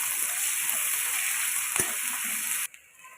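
Onions frying in plenty of oil with bay leaf and dried chili in a village-style kitchen, a steady close bright sizzle with one sharp clack, stopping abruptly near the end.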